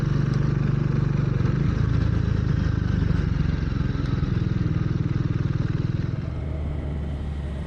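Triumph Tracker 400 motorcycle ridden on the road, a steady, loud engine drone with dense low rumble and pulsing exhaust throughout, easing slightly near the end, no talking.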